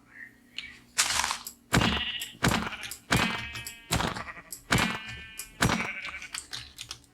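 Repeated sheep bleats in the Minecraft video game, about half a dozen short calls at a steady pace, each paired with crisp clicking from a mouse or keyboard.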